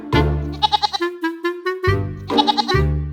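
A goat bleats loudly and close by in a farm setting, giving several wavering, quavering calls in quick succession with short pauses between them.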